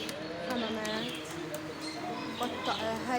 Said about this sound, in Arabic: حمام. شوف هذا الحمام مميز.